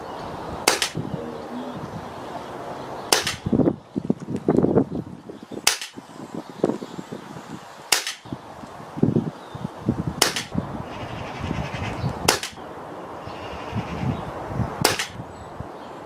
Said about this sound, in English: give it a shot to the zero target and see where it lands